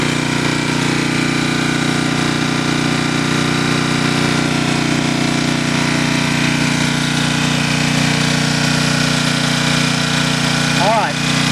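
A portable generator engine runs at a steady, loud drone, with an even mechanical hum holding for the whole stretch and no pauses or speech.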